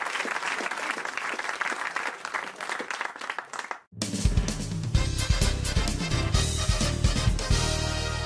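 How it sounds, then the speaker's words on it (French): Studio audience applauding on a French radio comedy panel show, dense steady clapping for several seconds that cuts abruptly into loud music with a heavy bass beat. "on vous applaudit, merci."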